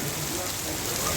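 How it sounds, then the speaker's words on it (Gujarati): Rain starting to fall on an outdoor roadside stop, a steady soft hiss of drops filling the whole moment at an even, moderate level. "જો વરસાદ ચાલુ થઈ ગયો ભાઈ આપણે"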